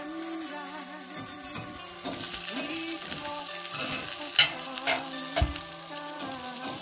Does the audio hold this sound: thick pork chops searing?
yes